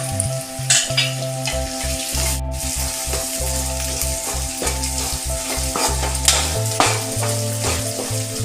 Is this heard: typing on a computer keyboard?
no